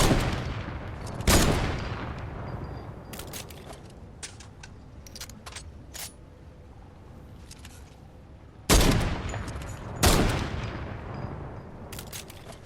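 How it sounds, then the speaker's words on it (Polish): Heavy Fortnite gunfire: a booming shot, a stretch of light clicking and handling noises, then two more loud shots close together, each ringing out. "oddaję dwa strzały, tracąc tylko jeden pocisk."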